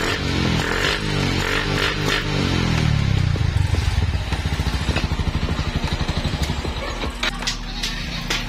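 A hard-starting Sniper 135 motorcycle engine starts with a rough revving, then settles into a steady, rapid idle putter with some metallic clatter, close by.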